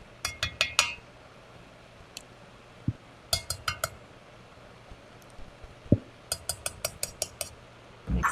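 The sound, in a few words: spoon clinking while mixing sour cream and ketchup in a bowl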